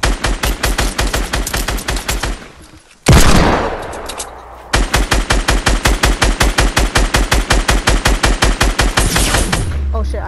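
Rapid automatic gunfire in Fortnite, dense and loud, broken by a short explosive burst midway before the steady stream of shots resumes and runs on to the end.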